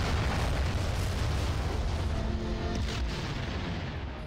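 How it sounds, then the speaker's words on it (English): Weapons fire hits a starship during combat in a Star Trek space game, a dense rumbling barrage of explosive booms rolling continuously and loud, slowly easing at the end. "They're firing at us through the warbird!"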